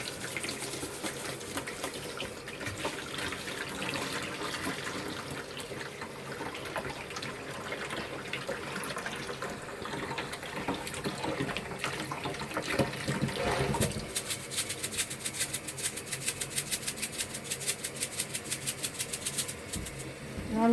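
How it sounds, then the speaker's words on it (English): Tap water pours steadily over fodder sprouts at a sink, a continuous rushing splash that holds close and moderately loud throughout, with the spray growing more sputtering near the end. "we're going to take it back in the house and we're going to rinse it off"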